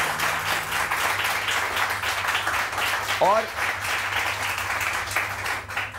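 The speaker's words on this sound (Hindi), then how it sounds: "बहुत सारी तालियां सारा।" A studio audience on a Pakistani morning show applauds as guest Sara Sarfaraz is welcomed, a steady wash of clapping that continues under a host's voice for several seconds.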